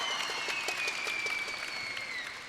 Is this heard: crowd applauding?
yes